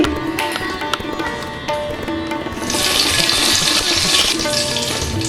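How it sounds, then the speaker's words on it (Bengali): A bay leaf dropped into hot oil for tempering while a Bengali fish curry is cooked: a loud, bright sizzle swells about halfway through and then holds steady above a busy kitchen background. "একটা তেজপাতা ফোড়নে দিয়ে দিচ্ছি"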